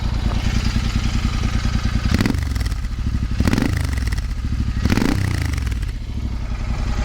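A Royal Enfield Interceptor 650 motorcycle with a Powerage exhaust, Fuel X Pro and NGage air filter, riding with a loud steady engine drone and three distinct rev surges and gear changes, close up with no talk.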